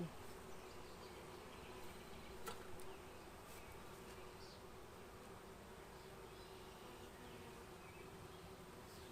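Honeybees buzz steadily around an open hive during an inspection, a faint, continuous drone with a few brief louder passes as single bees fly close.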